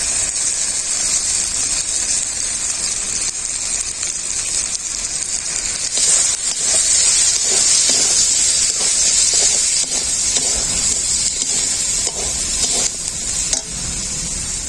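Ground ginger and garlic frying in a pan as chili, turmeric, cumin and coriander powders go in for an eggplant curry, a loud continuous hissing sizzle with stirring scrapes, and no talk.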